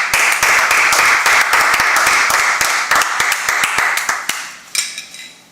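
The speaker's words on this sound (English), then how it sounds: "Let's clap it up." A group of men in a brotherhood class clapping hands together in a fast, loud, steady burst of claps close by, thinning out toward the end.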